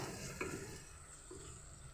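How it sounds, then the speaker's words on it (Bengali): A spice paste of poppy seed, cashew and fennel stirred in a pan while cooking for a rohu fish yogurt curry, a soft scraping swirl over a faint steady sizzle, quiet and close, with one brief clink near the start. "মশলাটা পোস্ত কাজু আর মৌরি সেটা দিয়ে একটু নাড়াচাড়া করবো"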